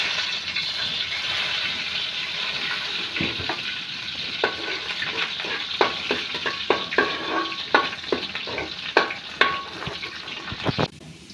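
Garlic fries in hot cooking oil, a steady close sizzle with scraping stir strokes that grow more frequent toward the end, with no talk.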